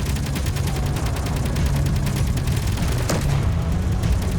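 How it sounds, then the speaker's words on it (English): Spaceship cannons fire in the Space Engineers video game as a rapid, steady stream of loud reports over a constant low rumble, with one sharper blast near the end. "Let's switch to cannons."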